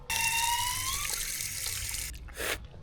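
Water gushes hard and steady from a cold public drinking fountain in the Montsià area of Catalonia. It is loud and close for about two seconds, then cuts out, and a short second burst follows.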